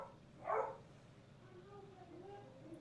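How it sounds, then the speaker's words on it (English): A pet dog lets out a single sharp bark early on, followed by quieter whining tones in a quiet room. "My doggy's barking because her daddy has come home."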